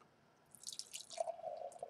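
Henhouse Reptilian Shadow Government, a hazy double IPA, is poured into a glass as a quiet, close trickle that swells into a steady gurgling stream, with no talking.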